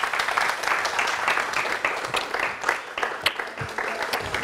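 An audience applauds a man named Aristide at a live football match-day show, dense continuous clapping with sharp individual claps standing out, close and steady throughout.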